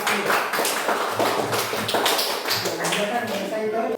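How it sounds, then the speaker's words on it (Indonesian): A classroom group claps in a steady, loud burst of hand claps during an Islamic religious lesson, close and sustained for several seconds. "Oke, tepuk tangan bersama dulu ya."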